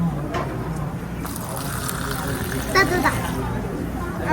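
A tower mojito poured from a large pipe-like dispenser into a glass, a steady liquid stream over background chatter and room noise.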